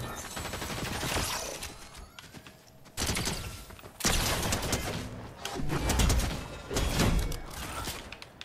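An automated turret in the Fortnite video game lets off dense bursts of rapid gunfire during a Halloween boss challenge. The shots repeat in waves over a busy layer of game effects.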